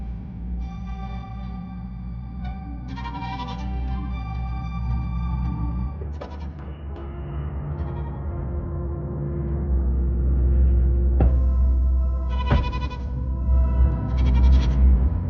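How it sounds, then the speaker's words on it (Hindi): A baby goat bleats in several wavering, tonal cries at intervals, mixed with a low rumble and other background noise in a dramatized scene, without talking. "इस बकरी के बच्चे की आवाज किधर से आ रही?"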